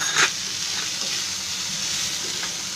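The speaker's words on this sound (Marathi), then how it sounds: "त्याच्यामध्ये हे मी ओलं खोबरं ठेवलं आहे, ते पण आता त्याच्यामध्ये टाकते. आणि आता हे सर्व कसं लाल भाजून घेणार आहे." Masala with tomato and grated coconut roasts in oil, a close, even sizzle and crackle that holds steady throughout, with a brief louder spit near the start and no voices.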